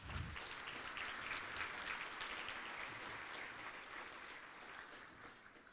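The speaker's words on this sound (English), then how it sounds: "Please give them a round of applause." Applause from the audience at the 31st Annual Building Economic Bridges Gala of the American Arab Chamber of Commerce, a dense, even wash of many hands clapping, moderately distant and sustained throughout.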